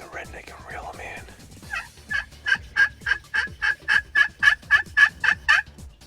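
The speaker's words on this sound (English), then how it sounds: "So we finally heard a turkey." Wild turkey gobbling during an opening-day turkey hunt in Sonoma County, a rapid rattling series of about a dozen pulses over several seconds, moderately close and clear after a brief stretch of quieter outdoor ambience.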